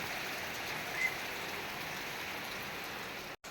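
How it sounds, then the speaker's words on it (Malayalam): Steady heavy rain hisses and patters on surfaces nearby, a constant even roar with no talking. "നല്ല മഴ കേട്ടോ ഭയങ്കര മഴ രാവിലെ മുതൽ തുടങ്ങിയതാണ് മഴ"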